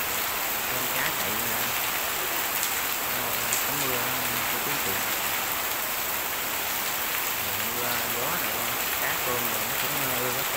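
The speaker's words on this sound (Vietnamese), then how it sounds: "Mưa lớn quá rồi" Heavy rain falling in a rural Vietnamese setting, a loud, dense and unbroken hiss of rain on surfaces, with someone talking intermittently beneath it.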